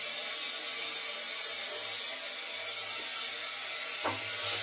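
Onions for veg biryani fry in a pan with a steady, even sizzle and hiss up close, broken once near the end by a short knock or stir, with no talking.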